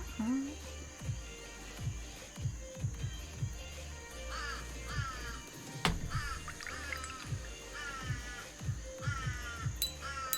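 Crows cawing loudly and repeatedly nearby, harsh calls in irregular bursts, with a person talking at times over them.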